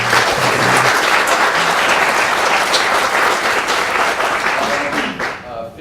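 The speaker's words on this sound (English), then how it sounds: "Let's give a round of applause." An audience at a university last-lecture event in a hall applauds with dense, loud, sustained clapping that fades slightly at the end.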